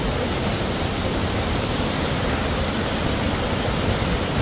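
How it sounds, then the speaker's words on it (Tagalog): Steady, dense roar of water pouring down at Anthurium Falls in Famy, Laguna, a constant broadband rush that holds at the same loudness throughout with no voices. "unang waterfall"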